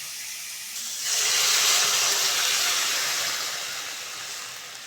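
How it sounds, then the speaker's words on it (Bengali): Water poured into a hot pan of fried kohlrabi bursts into a loud hissing sizzle after a quiet second and fades slowly as the pan settles. "এবার জল দিয়ে দেবো।"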